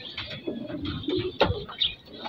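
Racing pigeons coo softly in a loft during a race lap, a few low throaty coos heard close by and fairly faint, with no talking.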